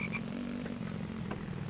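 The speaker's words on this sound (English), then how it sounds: "Man, just riddled with frogs today." Frogs croaking in the survival game The Infected, a brief croak or two over a steady low ambient hum, fairly faint and with no voices.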